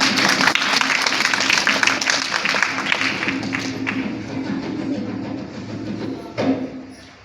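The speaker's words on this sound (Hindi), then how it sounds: "एक बार जोरदार तालियां बजा दें।" An audience at a Bundeli folk play breaks into loud, sustained applause that gradually fades, with a brief louder burst near the end.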